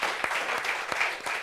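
An audience at a meeting about online romantic relationships claps steadily for a short burst, the applause dense and even with a few sharper individual claps standing out.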